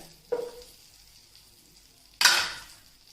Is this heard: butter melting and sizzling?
yes